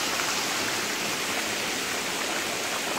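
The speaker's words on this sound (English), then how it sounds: "Just climbed to the top of the waterfall by the rope." A waterfall on a bush trail walk, heard from the top, makes a steady, loud, close roar of rushing water that does not change and has no voices.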